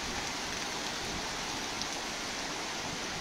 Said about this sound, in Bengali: সিলেটে প্রচণ্ড বৃষ্টি হচ্ছে